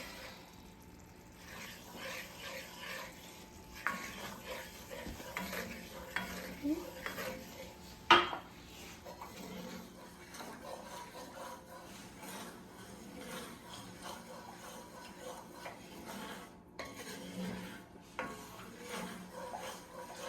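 Utensil scraping and stirring chicken Florentine in a pan over a soft sizzle, with occasional clinks of metal against the cookware.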